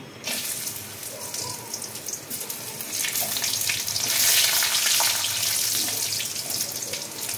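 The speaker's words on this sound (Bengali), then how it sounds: "প্রথমে কাজু কিশমিশটা একটু ভেজে নেব।" Cashews and raisins sizzle in hot ghee, a close, continuous crackling hiss that swells slightly midway.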